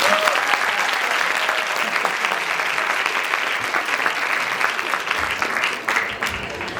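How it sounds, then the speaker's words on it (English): Audience applause after a performance at a school event, a steady dense clapping crowd sustained throughout at moderate loudness, with a brief voice at the start. "Let's clap for them once again."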